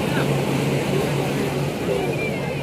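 A boat engine drones steadily at Diu beach, a loud, continuous motor hum with a low rumble that stays even throughout.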